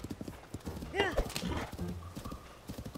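Rapid horse hoof clip-clops in The Legend of Zelda: Tears of the Kingdom patter steadily while the horse whinnies briefly, with people talking over the sounds.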